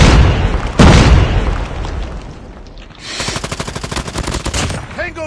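Call of Duty Mobile match audio: a heavy bomb explosion booms first, then a rapid burst of machine-gun fire rattles steadily for a couple of seconds, loud and close.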